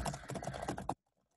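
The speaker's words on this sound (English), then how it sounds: "I'm just typing gibberish." Rapid typing of gibberish on a computer keyboard, a quick close burst of clattering keystrokes lasting under a second before stopping into near silence.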